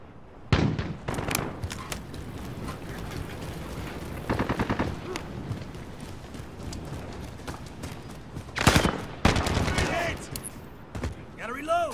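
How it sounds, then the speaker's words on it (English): Call of Duty: Modern Warfare gunfire in local multiplayer, with sharp bursts of automatic fire and single shots separated by quieter gaps. Some are loud and close, others fainter. "I'm trying to easily count my shots"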